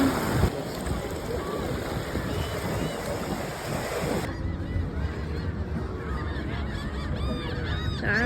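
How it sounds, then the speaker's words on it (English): A large flock of seagulls calls at a beach, many overlapping squawks and cries, loud and close, over a steady wash of surf and waves. "That's a lot of seagulls."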